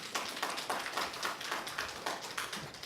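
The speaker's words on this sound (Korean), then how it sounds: "다시 한번 박수 한번 부탁드리겠습니다" An audience at a parents' seminar in a church claps after a lecture, giving a rhythmic round of hand claps heard fairly close, each clap distinct in a quick, steady beat.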